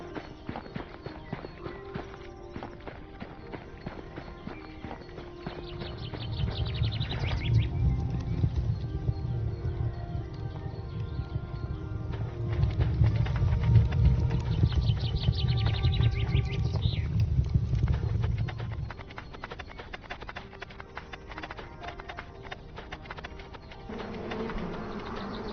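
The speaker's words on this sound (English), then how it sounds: "Alright, I'm gonna grab my horse." Horse hooves clip-clop in the fantasy survival game Ars Notoria, a steady rhythmic trot of light knocks that swells louder through the middle stretch over a continuous buzzing game ambience, with no voices.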